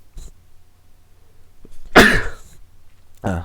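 A single sharp sneeze bursts out indoors during a quiet online tabletop game session, with faint breathy sounds before it and a voice following shortly after.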